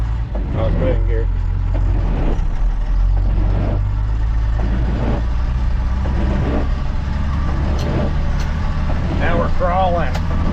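A first-generation Cummins truck with an NV4500 transmission and NP205 transfer case crawls in four-wheel-drive low, giving a loud steady diesel drone with a deep rumble throughout and occasional faint mechanical clunks, recorded close.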